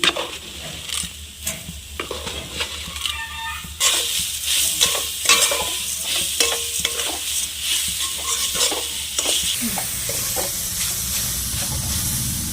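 Coconut filling with cardamom and sugar is stirred in a hot pan, giving continuous scraping and sizzling with repeated spoon strokes that grow louder and denser partway through, close up with no talk.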